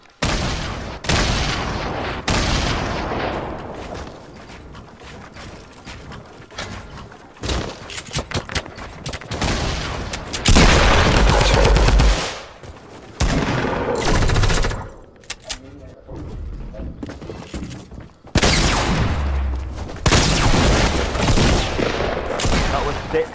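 Gunfire in the Fortnite video game, with dense, loud bursts of rapid shots and booms that continue almost nonstop, pausing only briefly between volleys.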